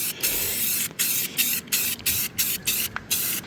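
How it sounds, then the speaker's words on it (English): Rust-Oleum gloss black spray paint hissing from an aerosol can in a string of short, loud, close bursts with brief pauses, used for spot patching surface rust on a dump trailer. "Rust-Oleum gloss black. So just gonna do a little bit of spot patching of that. This is a spray can."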